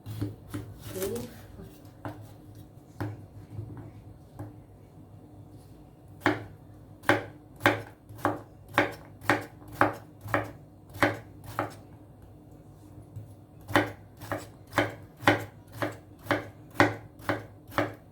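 A knife chops cucumber for a turkey, mango and avocado salad, sharp rhythmic strikes on a board that come in quick even runs with pauses between, close and clear.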